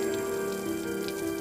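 Steady rain falling in a quiet night scene, a continuous soft patter with faint scattered drops over a low steady hum, no voices.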